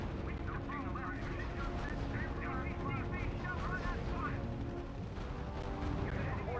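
Continuous battle din from the RTS game R.U.S.E., with dense gunfire and artillery booms rumbling together under radio-style voice callouts throughout.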